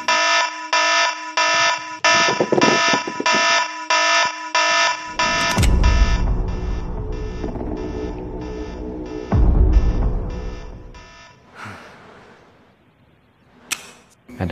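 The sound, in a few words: siren alarm sounding after hacked CCTV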